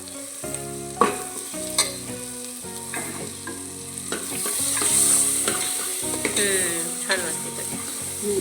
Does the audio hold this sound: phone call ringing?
no